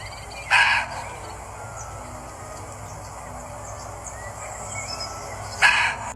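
Two short, sharp barks of a muntjac (barking deer) spaced about five seconds apart, standing out over a steady background of insects and faint birdsong.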